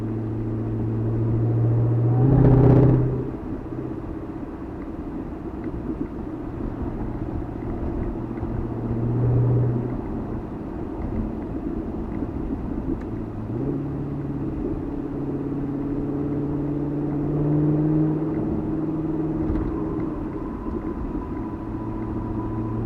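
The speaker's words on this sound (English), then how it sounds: "so that you can hear the exhaust and why these cars are so awesome." Carbon 65 car exhaust rumbling steadily while driving in traffic, with a low droning tone, a brief louder rev near the start and gentle swells in engine note throughout, no voices.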